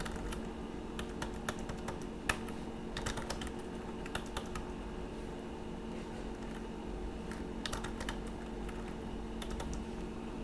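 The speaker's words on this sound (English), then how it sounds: "Enter the password." Keys on a computer keyboard clatter in irregular bursts as a password is typed, quick light taps close by over a steady low background hum, with no voices.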